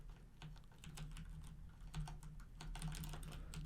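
Steady typing on a computer keyboard, a continuous run of quick, light key clicks close by over a faint background hum, with no speech.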